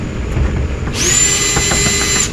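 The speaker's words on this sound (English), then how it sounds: "If I can get the socket on the drill in here." A power drill fitted with a socket whines up to speed beneath a 1967 C30 truck dashboard, a sustained high motor tone starting after a second of quiet shop ambience and running steadily to the end.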